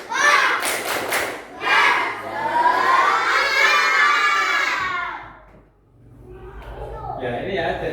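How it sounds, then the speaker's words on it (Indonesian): A class of students does the tepuk semangat clapping cheer, a loud burst of group chanting, shouting and rhythmic clapping with a brief lull before noise picks up again. "mari kita bertepuk semangat terlebih dahulu"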